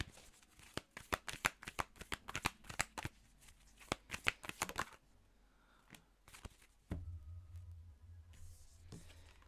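Tarot cards being shuffled by hand: a rapid run of crisp, close riffling flicks for several seconds, then sparser card sounds and a low hum, with no speech.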